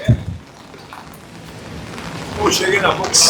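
Rain falls steadily on the streets of Copacabana, a soft continuous patter that swells louder toward the end, with a brief sharp knock near the start.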